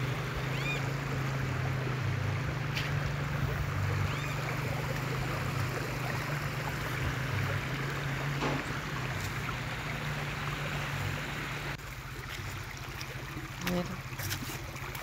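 Small stream flowing on a rural ranch, a constant close babble and rush of water that continues throughout with a few faint knocks and no talk over it.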